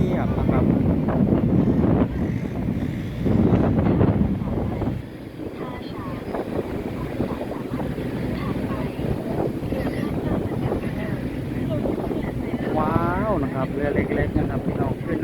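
Passenger boats on the Chao Phraya river near Wat Arun in Thailand, a rumbling engine drone and churning water mixed with gusty wind buffeting the microphone, while someone talks over it.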